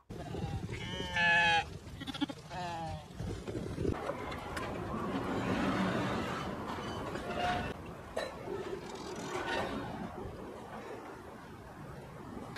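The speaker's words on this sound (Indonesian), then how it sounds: "Dia mengurus kambing-kambing mereka" Goats on a farm hit by drought bleat several times early on, close and fairly loud, then give way to a broad outdoor rustle and background noise with occasional fainter bleats.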